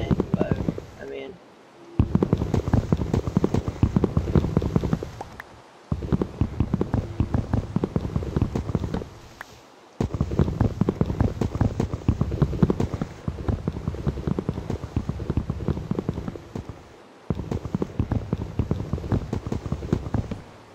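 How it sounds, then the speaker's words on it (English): Steady patter of rain in the video game Minecraft runs throughout in long stretches, broken by brief pauses, with a voice talking over it. "it doesn't really matter that it's raining"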